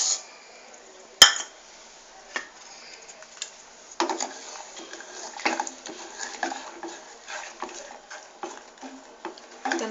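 A spoon stirs sugar into boiled milk in a metal pot for vermicelli payasam, giving light irregular scrapes and clinks, with one sharp clink near the start and soft tapping throughout.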